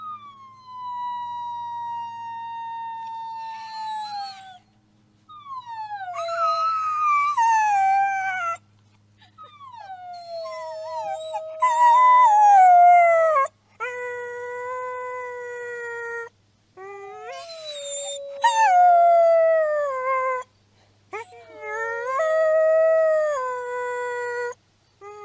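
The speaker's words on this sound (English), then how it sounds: "What a great way to end this is to give a howl." A wolf puppy howls in a series of long, rising and falling tonal cries broken by short pauses, clear and close, with a faint low hum beneath.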